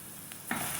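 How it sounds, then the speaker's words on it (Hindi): Soy sauce and hot sauce hitting a pan of softened capsicum for pasta, giving a sudden close sizzle that starts partway through and holds steady after a quiet stir. "अब हम इसमें डाल देंगे 1 teaspoon soya sauce, 1 teaspoon hot sauce."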